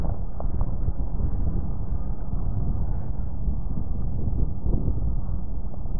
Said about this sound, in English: it's quite a bit of wind